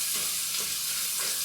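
Flour is stirred into meat sizzling in a skillet, giving a continuous close frying hiss with soft scraping stir strokes.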